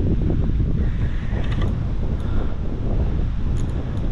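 Strong wind blows beside a canal in France during a fishing trip, buffeting the microphone with a loud, constant low rumble and roar for the whole stretch, with no speech.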